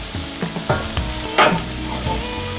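Garlic sautéing with softened onions in a pan for Southern-style braised chard, a loud close sizzle with knocks and scrapes of a utensil stirring through it, several sharp clatters, no voices.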